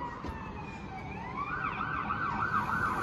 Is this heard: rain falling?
no